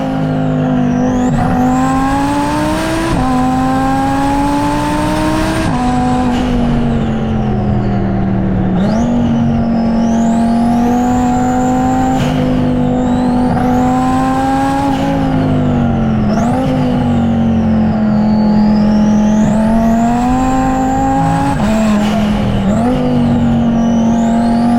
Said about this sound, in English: I'll stop talking now and let you guys listen to the R8 in its purest form